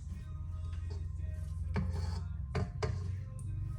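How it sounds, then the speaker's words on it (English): A spatula scrapes the sides of a mixing bowl of whipped cream being churned into butter, with soft rubbing strokes and a few sharper scrapes, close and quiet. "You want to make sure you continue to scrape those sides"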